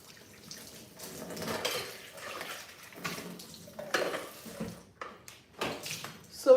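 Water runs from a kitchen tap during washing up, a soft continuous splash mixed with occasional clinks of dishes and cutlery nearby.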